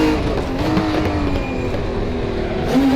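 BMW M1 Procar racing engine in Project Cars 2, a steady loud drone with harmonic tones that rise and fall slightly as it holds speed, with a brief tire squeal and a revving swell near the end.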